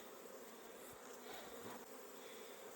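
Angry honey bees swarm in a beekeeping production yard after a dearth, a dense, steady buzz of many insects filling the air with no pauses.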